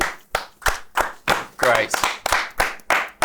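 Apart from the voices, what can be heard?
people clapping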